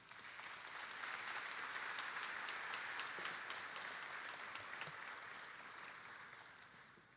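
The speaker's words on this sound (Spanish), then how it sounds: "Un aplauso para Carlos" An audience at a legal lecture applauds for Carlos, a full, steady round of clapping that swells quickly and then tapers off gradually.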